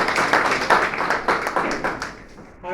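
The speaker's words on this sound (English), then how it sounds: "a round of applause for taking care of it." Audience applause for a club member and her staff at a Garifuna delegation gathering in London, a dense burst of clapping that stays fairly steady for nearly three seconds before thinning at the end.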